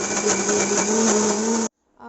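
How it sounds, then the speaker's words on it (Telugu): A kitchen mixer grinder whirs steadily while blending boiled chana dal into paste for bobbattu, a loud even motor whine that cuts off abruptly near the end, followed by a brief moment of a voice speaking. "ఇప్పుడు మనం ఈ ఉడకపెట్టుకుని ఉన్న శనగపప్పుని కొంచెం కొంచెంగా మిక్సీ చేసుకుంటాం"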